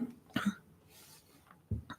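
A person with an irritated throat coughs in a few short, close bursts: a pair of coughs, a pause, then two more, with quiet room tone between.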